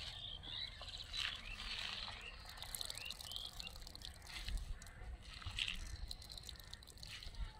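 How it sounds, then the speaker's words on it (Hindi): Water squeezed by hand from boiled cabbage into a bowl, faint intermittent dripping and sloshing trickles in a quiet kitchen, soft and close with irregular small splashes. "तो पानी देखिए मैं गार रही हूँ, वो बहुत ही अच्छे से देखिए निकल रहा है"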